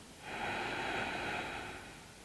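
One slow, soft inhalation through the nose during a belly breathing exercise, an airy hiss that swells for about a second and a half and then fades, heard alone in a quiet room.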